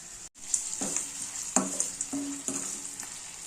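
Vegetables sprinkled with salt fry in a pan with a soft, constant sizzle, while a utensil scrapes and stirs several times in quick, uneven strokes close by.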